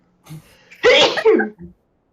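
A single loud human sneeze, a short intake followed by a sharp burst, up close at the start of a tabletop role-playing game session, alone with no talk over it.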